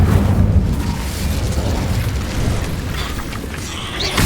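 Incendio fire spell in Hogwarts Legacy erupts as a loud, rumbling blast that rolls on as a fiery roar and tails off, with a faint whoosh near the end.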